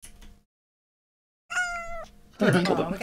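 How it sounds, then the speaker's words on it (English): A pet cat gives one clear drawn-out meow after a short silence. A person's voice follows right after it, loud and close. "Can you get a meow from Nugget"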